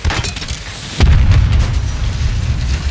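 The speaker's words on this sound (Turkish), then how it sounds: "Patlama fazla kanka." Heavy in-game explosion during a Call of Duty: Warzone squad battle in Urzikistan, a sudden deep boom about a second in that leaves a dense low rumble rolling on, with busy combat noise before it.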